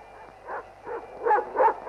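A dog at a mountain reservoir gives a short series of about four small yips and barks, rising in loudness, fairly close and alone.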